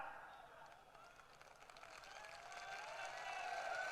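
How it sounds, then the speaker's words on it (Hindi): An audience at a political rally claps, a dense, fairly faint patter that grows louder toward the end, with a voice speaking over it. "आप खुशी से ताली बजा रहे हो"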